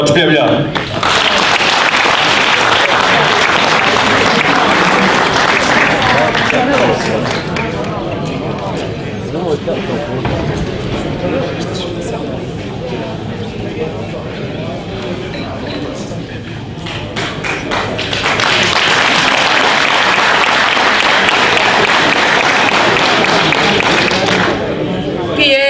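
Loud sustained applause from a crowd at an ethno music festival greeting a singing group, dense clapping that dips midway then swells again, with a voice talking over it.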